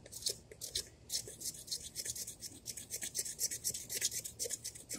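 The back of a multi-tool saw scraping pine fatwood, producing rapid, rhythmic rasping strokes that continue steadily, close and clear with no speech.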